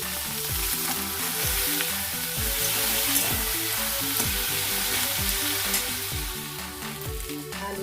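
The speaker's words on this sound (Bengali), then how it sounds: "আলু তরুলি ভাজা আমি এবারে নামাবো" Potatoes and ridge gourd frying in a pan with chilli tempering, a steady loud sizzle broken by repeated scraping stirs of a spatula, with no talk.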